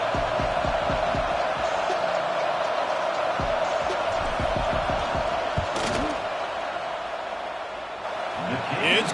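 A football stadium crowd roars steadily during a field goal attempt, a dense, far-off wall of noise with scattered sharp bangs, while someone talks over it.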